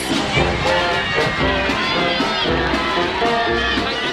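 Large crowd of football fans at an AFL Grand Final parade cheering and shouting continuously, loud dense roar with children's shouts mixed in, close and sustained throughout.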